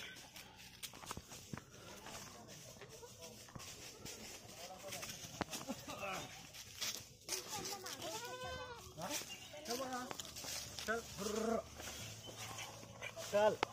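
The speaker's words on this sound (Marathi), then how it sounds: "शेळ्यांची पिल्लं आहेत." Young goat kids bleat at a fort trail entry gate, with several wavering cries clustered midway through. Footsteps and voices carry on around them outdoors.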